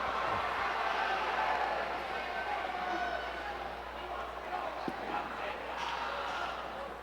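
Broad murmur of a large indoor arena crowd before a high school hockey game, chatter and shouts blending into a constant wash, with a sharp thud partway through.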